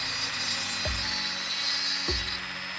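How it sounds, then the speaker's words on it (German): A handheld Dremel rotary tool drills holes in a plastic bottle cap, making a steady, fairly loud whine throughout with two dull knocks as the bit presses in. "Ich nutze zum Bohren so einen Handdremel hier."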